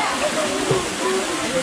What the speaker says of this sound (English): Floating down the river.